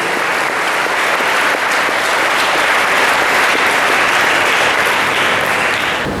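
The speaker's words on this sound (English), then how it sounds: "I request all of you to put your hands together for a great round of applause for the highest scorers." Dense, sustained applause from a large audience at a school toppers' felicitation ceremony, a continuous loud roar of many hands clapping with no break.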